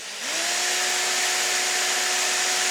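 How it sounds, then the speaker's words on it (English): A power drill running on a Tripp-Lite UPS converted to supercapacitors spins up from a click, its motor whine rising quickly then holding a steady loud hum over a broad rushing noise. "So I'll turn the drill on."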